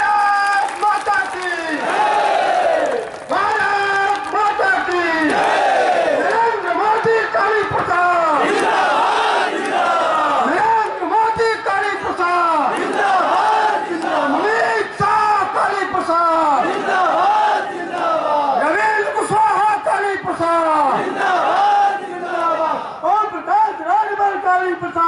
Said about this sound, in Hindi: मैं चाहता हूँ नारों के साथ इनका स्वागत हो।